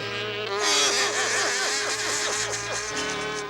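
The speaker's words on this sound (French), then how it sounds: "Une mouche." In a French Smurfs cartoon, a fly buzzes loudly and continuously near the listener, its whine swooping up and down in rapid looping arcs for several seconds.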